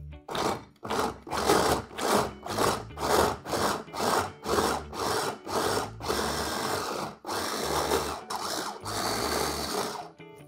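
Food processor grinding a cashew pâté in repeated short pulses, then longer continuous runs, a loud close whirring with no talk.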